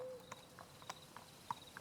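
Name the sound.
horse hooves clip-clopping, ambient effect in tabletop role-play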